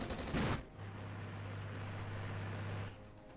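Automatic machine gun fire in the Armored Brigade video game, with a faint burst of rapid shots followed by a steady low mechanical hum, heard at a distance.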